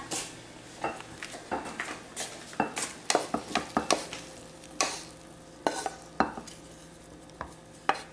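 Kerala-style mango pickle is scooped into a bowl with a stream of irregular clinks, scrapes and wet stirring knocks against the bowl, close and moderately quiet, with no talk.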